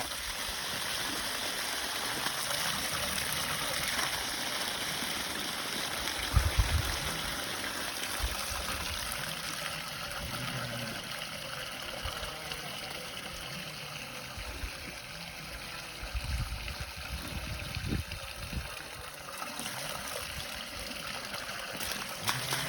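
Water gushing steadily out of cleared farm water pipes for sheep in the Karoo, a continuous close rushing flow with occasional splashes and knocks, no talk over it.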